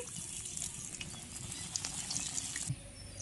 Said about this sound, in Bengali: গরম তেলে পনিরগুলো ছেড়ে দিচ্ছি